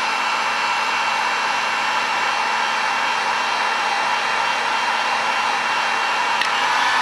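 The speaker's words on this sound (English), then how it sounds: "plug in the China Goodness heat gun, and I guess we'll lowify that" Cheap Chinese heat gun set to low, blowing hot air in a steady, loud, unbroken whoosh with no talk.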